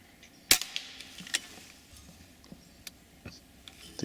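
An air rifle shot during squirrel pest control: one sharp, near crack of the pellet strike stands out, followed by a few fainter ticks and light rustling from the animal thrashing, with no talk.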